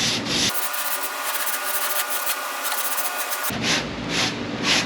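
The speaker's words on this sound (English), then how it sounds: "Always try and keep the sanding block flat to the surface you're working on." Steady, continuous abrasive rubbing of a sanding block over a car panel, close and fairly loud, with brief pauses at the start and end.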